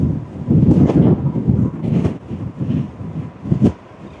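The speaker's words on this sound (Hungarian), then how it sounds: "Borzasztóan fúj kint a szél." Strong wind gusts outdoors at the Cape of Good Hope, buffeting the microphone with loud, low, uneven roaring swells and no voices.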